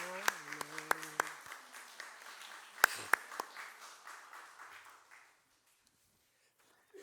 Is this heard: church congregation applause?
yes